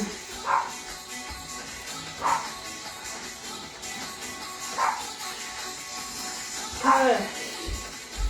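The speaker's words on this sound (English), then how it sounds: "Noisy dog today." A dog barks several times at a distance during an indoor workout, short yips spaced a couple of seconds apart, partly under talk and background music.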